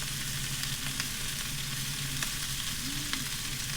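Meat searing in a hot pan at a van campsite, with a steady close hiss of frying and occasional small pops and crackles, no voices.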